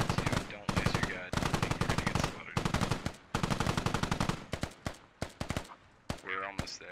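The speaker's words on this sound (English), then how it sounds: "Well, they're taking shots back." Automatic and rapid gunfire in the military shooter game Squad, bursts of loud rattling shots with short gaps, some heavier and more distant reports near the end.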